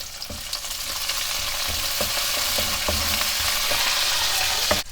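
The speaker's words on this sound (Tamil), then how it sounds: "10 வெந்தயம், 1/4 டீஸ்பூன் மிளகு, 5 சின்ன வெங்காயம் போட்டு ஆயிலில் நல்லா வதக்கிடலாம்" Small onions, fenugreek seeds and black pepper sizzle steadily in hot oil, a continuous close frying hiss with faint stirring taps and clicks throughout, no voices.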